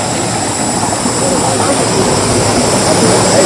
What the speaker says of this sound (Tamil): தண்ணி எவ்வளோ தெளிவாக விழுதுன்னு பாருங்கள்